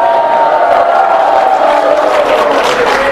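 A church congregation at a conference shouts praise together, a loud continuous roar of many voices with whoops and cries, sustained without pause.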